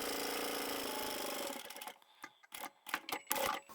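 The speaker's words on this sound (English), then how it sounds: "So we'll start sewing 1/2 inch from the end with a back stitch." A sewing machine runs steadily as it back-stitches a fabric pouch, a fast close mechanical rattle that stops partway through and gives way to scattered clicks and handling noises.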